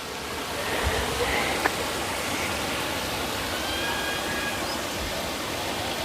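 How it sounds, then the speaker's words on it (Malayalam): Rushing water from a small waterfall in Sanjay Gandhi National Park, Mumbai, gives a steady broadband roar, moderately close, with a few faint knocks and no clear voices. "So this is a way to A small waterfalls."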